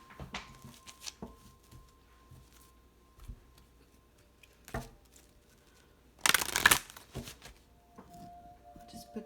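Tarot cards handled and put away up close, with scattered soft taps and shuffles, then one loud burst of cards riffling and sliding together before quieter handling resumes.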